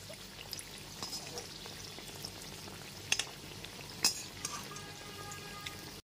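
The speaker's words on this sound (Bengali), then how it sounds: "সেকেন্ড ব্যাচের বড়াগুলো গ্যাসের ফ্লেমটা লোতে রেখে ঠিক একই রকম ভাবে উল্টে পাল্টে ভেজে নিচ্ছি" Batter fritters of Malabar spinach leaves frying on a low gas flame, a quiet steady crackle and hiss with a few sharp pops and the odd clink of turning them.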